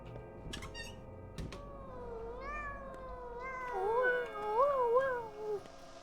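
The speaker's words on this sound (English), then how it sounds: "when I hear a cat meow, I have to meow back." A cat meows in the game Pathologic 2, a drawn-out wavering call that rises and falls over several seconds and follows a few soft knocks, fairly close and clear with no talk.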